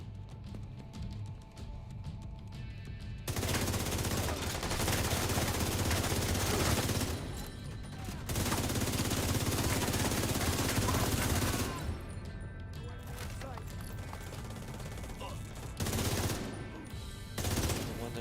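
Bursts of rapid video game gunfire from an enemy shooting at the player in Descent, loud sustained volleys separated by quieter stretches of engine hum and ambience.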